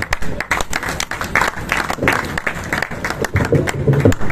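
Steady, dense applause from a crowd, rising and falling slightly, with a few louder claps and some faint voices mixed in.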